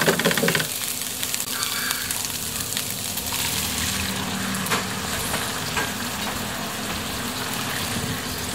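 Ground chicken sizzles and bubbles in a pan after water is poured in, a steady, close, continuous frying hiss with a brief louder burst at the start and no talking.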